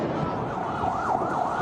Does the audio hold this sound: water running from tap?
no